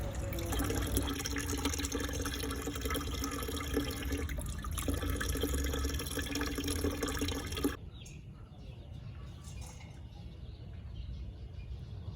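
Water pours and trickles steadily for several seconds onto hydroponic pak choy plants, then the flow stops, leaving a quieter background with faint drips.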